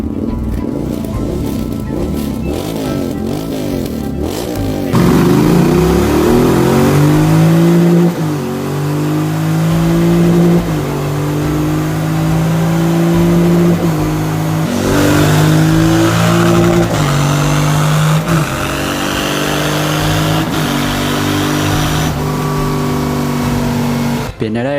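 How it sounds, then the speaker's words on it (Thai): A motorcycle engine starts and revs repeatedly, loud and close, with sustained droning and rising pitch sweeps as the throttle is worked, continuous throughout. "พวกเจ้าจงฟังเสียงสตาร์ทให้ดี"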